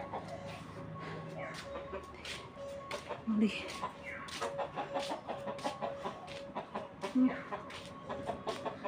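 Backyard hens, which have stopped laying, give a few short clucks at a middle distance among rhythmic tapping and household background noise.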